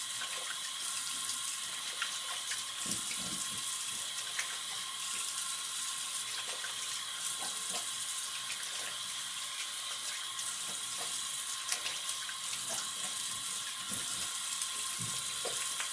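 Tap water runs steadily into a sink as someone rinses off after a wet shave, a continuous close hiss with faint splashes and no talking.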